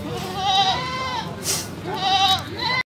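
A female Jawarandu goat at a livestock sale gives two loud, close, wavering bleats about a second and a half apart, with a short noisy rustle between them and no clear talk.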